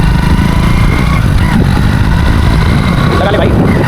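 Motorcycle engine pulling hard in gear on a road as the rider accelerates, a loud, steady close-up drone with wind noise that holds level throughout.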